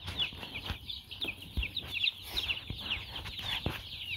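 A pen of chickens that includes a bantam keeps up a soft, continuous chorus of clucks and peeps, fairly faint and with no talking.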